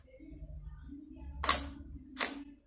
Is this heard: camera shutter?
yes